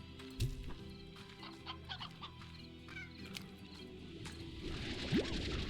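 A stony hen from the game Slime Rancher clucks a few times, soft chicken-like calls scattered over a quiet background of game sounds.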